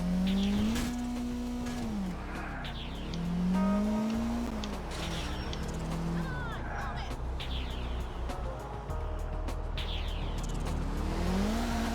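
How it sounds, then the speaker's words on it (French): A car engine in GTA IV revving and accelerating, pitch climbing and dropping in repeated surges, with tire squeals and mixed noise under a continuous loud roar. "t'entends bien le moteur qui essaie de d'accélérer"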